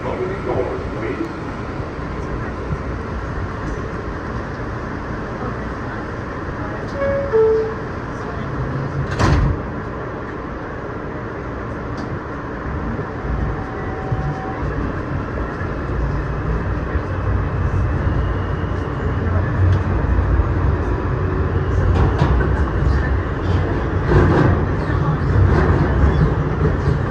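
Riding inside an R160 E subway train from Jamaica Center toward 2nd Avenue: sustained rumbling car noise with a sharp clank near the middle and rising wheel-and-track roar later, plus an announcement-like voice in places.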